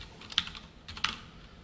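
A few isolated keystrokes on a computer keyboard while code is typed, two sharp clicks spaced apart, quiet and close, with no talk.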